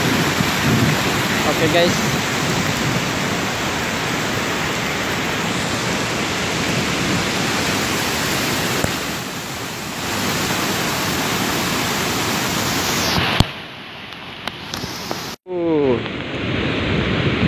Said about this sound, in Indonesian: terjebak banjir yang lumayan deras ini airnya